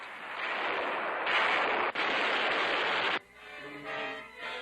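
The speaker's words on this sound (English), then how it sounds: "Guns, camouflaged in nearby fields, score a hit." Camouflaged artillery guns firing from fields and striking a target during the 1943 Battle of Tunisia, a dense sustained blast of noisy rumble with a brief cut, then a harsher tonal burst, on a worn newsreel soundtrack.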